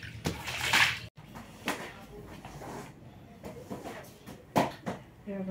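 Water is tossed onto a room's floor for cleaning, several separate splashes and sloshes at irregular intervals, close by, with voices talking now and then.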